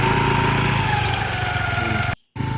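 A small scooter engine runs with a steady, close drone, then cuts out briefly before starting again.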